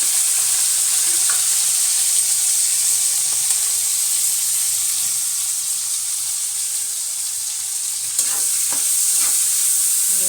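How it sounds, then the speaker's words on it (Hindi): Onion and garlic frying in oil for a tadka, stirred in the pan, give a steady, dense sizzle with occasional scraping stirs throughout, close up and without speech. "ऐसे मिला के तड़का लगा लीजिए।"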